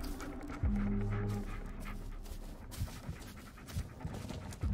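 In the Blair Witch video game, a dog growls low and pants close by, a deep rumble followed by quick rhythmic breaths with soft thuds.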